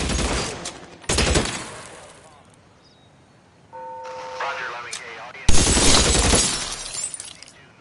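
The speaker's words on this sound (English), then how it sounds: "Shots fired in office." Gunfire in the VR detective game L.A. Noire VR, sudden loud bursts of shots with shattering glass and debris, in separate blasts split by quieter stretches and brief tonal effects.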